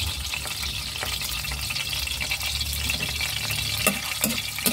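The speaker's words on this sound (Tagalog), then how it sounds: "So, gigisa na natin yung ating bawang." Garlic sautés in hot oil in a pan while being stirred for chopsuey. A steady, close sizzle runs throughout, with scraping stirs breaking through it.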